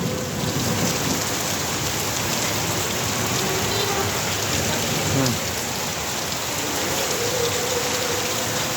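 Heavy rain pours steadily in a Bangladeshi village, a dense close wash of drops on surfaces, with a faint low rumble of thunder rolling under it midway.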